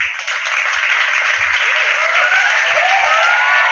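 A small group applauds the one-year anniversary of the Red Room podcast, a loud, continuous, close wash of clapping with no pauses.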